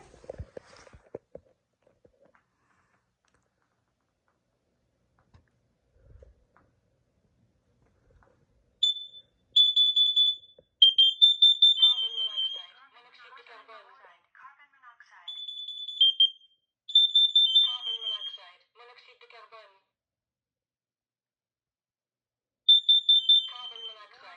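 Kidde KN-COB-IC carbon monoxide alarm sounding on a demo board: bursts of shrill high-pitched beeping in repeated groups, loud and close, separated by silences, with faint handling noise at the start.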